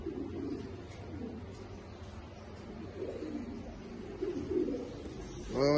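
Hybrid and crossbred pigeons in a Kuwaiti loft coo in soft, repeated throaty rolls close by against a low background hum, ending with a brief louder sound.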